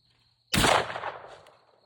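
A single rifle shot cracks out sharply at a long-range clay target, a loud, abrupt blast that rolls off into a fading echo over about a second, with no talking.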